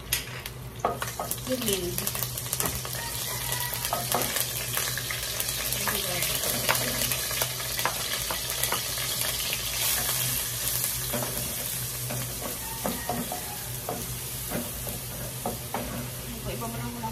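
Curry leaves and cumin seeds sizzle in hot oil in a pan while being stirred for an Indian chicken dish, a continuous crackling fry with scraping stirs and a brief spoken word.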